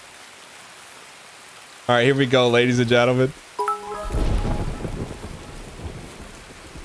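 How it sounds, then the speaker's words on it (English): Steady hiss of heavy rain in the video game Escape From Tarkov runs throughout, with someone speaking briefly over it partway through, followed by a low rumble. "I feel kind of wet right now playing on this, all this rain, the ambiance."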